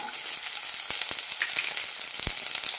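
Chopped small onions and garlic frying in a teaspoon of coconut oil for a drumstick stew, a loud, close, continuous sizzle with a few sharper pops and stirring clicks.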